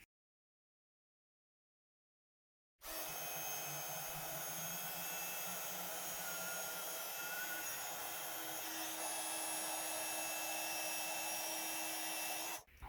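A heat tool roars steadily and close, melting opaque bright white superfine embossing powder on a card panel, starting after a few seconds of silence and running unbroken almost to the end.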